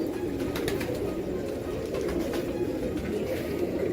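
Heera Lal pigeons cooing nearby in a loft: soft, repeated low coos over a steady hum of background noise, with no voices.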